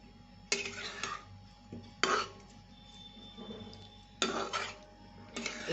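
Egg curry in a pot, thinned with a little water from a bowl of ground coriander, is stirred with a spoon, giving a few scattered scraping clinks against the pot, close but quiet, separated by pauses.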